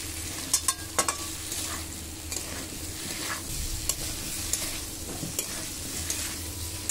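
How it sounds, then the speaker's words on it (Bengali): Grated coconut is stirred into pumpkin frying in a pan, with a soft steady sizzle under irregular scrapes and clicks of the spatula against the pan. "নারকেল কুড়া দিয়ে খুব ভালো করে নেড়ে নেব"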